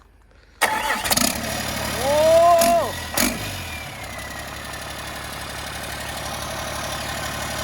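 A Caterpillar 320D excavator's diesel engine cranks with a whining starter, then catches and settles into a steady low idle; a voice exclaims briefly.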